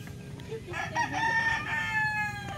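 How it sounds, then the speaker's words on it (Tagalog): A rooster crows loudly and close by among a flock of backyard chickens in a Filipino yard, with clucking hens murmuring underneath throughout. "Ayun mga manok."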